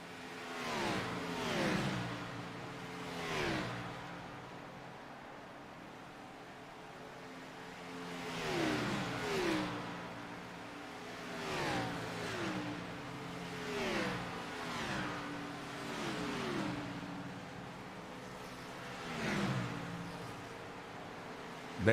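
Race cars lapping under green flag on a paved oval at Homestead, engines rising and falling in repeated pass-bys, with several cars roaring past at once at intervals amid a steady background drone.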